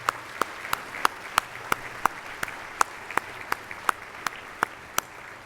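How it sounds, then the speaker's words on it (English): An audience at a community foundation awards ceremony applauds in a steady round, a broad wash of clapping from a roomful of people with a few louder claps cutting through at a regular pulse. "I'd like for you to join me for a round of applause to celebrate the many donors who actively support our community"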